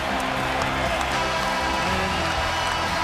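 A sellout basketball arena crowd cheers and applauds at the Raptor end, a dense, steady roar of many voices and clapping with no breaks.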